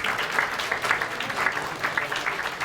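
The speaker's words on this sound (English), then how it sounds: "give them both a well-deserved thunderous applause" An audience at an annual gala dinner breaks into applause, a dense steady clapping that holds evenly for a few seconds.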